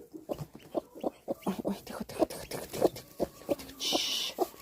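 A hen clucks in a quick series of short, soft calls about every quarter second, close and fairly quiet, with a brief higher noise near the end.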